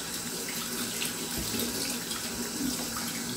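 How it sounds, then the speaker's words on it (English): A kitchen tap runs steadily over a sink drainer as a telescope mirror is rinsed beneath it, giving a continuous close splashing hiss with no voices. "Now, I've moved the tap over the drainer. And at this point, I'm just going to rinse the mirror."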